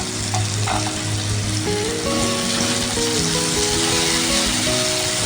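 Coconut pieces drop into tomato frying in a pan, setting off a loud, close, continuous sizzle with stirring scrapes running through it, and no voices.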